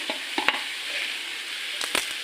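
Brain curry frying and being stirred in a pan, a steady close sizzle broken by a few sharp spatula scrapes and clicks.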